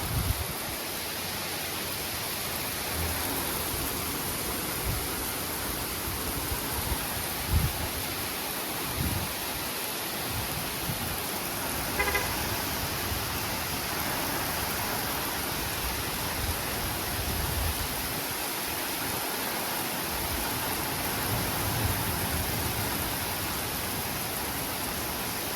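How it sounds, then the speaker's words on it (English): Heavy rain and strong gusty wind in a severe thunderstorm, a loud steady broadband roar that continues unbroken throughout with slight swells and no talk. "Heavy rains, by the way, too."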